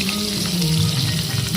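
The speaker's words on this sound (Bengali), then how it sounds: "এখানে আমি দিয়ে দিলাম তেল গরম হয়েছে, এখানে দিয়ে দিলাম পেঁয়াজ" Onions dropped into hot oil at an outdoor Poush Sankranti picnic cookout, giving a close, steady, loud sizzle that holds evenly from start to finish.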